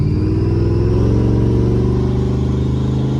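Supercharged 1967 Chevy V8 with a 6-71 blower, 10 psi boost, aluminium heads, 580-lift cams and twin 650 double-pumper carbs, idling and revving in a steady, loud, lumpy rumble throughout with no talk.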